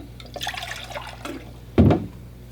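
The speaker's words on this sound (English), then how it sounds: "I'm going to just empty my water and add some fresh water." Water for watercolor painting is emptied from a container and fresh water poured, with soft trickles and drips followed by one short, loud splashing pour close by.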